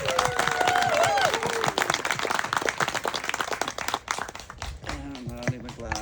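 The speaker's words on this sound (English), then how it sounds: "So give a huge applause for Blossom." Audience applauding for speaker Blossom Goodchild, crisp rapid clapping from many hands close by, thinning toward the end as a voice talks over it.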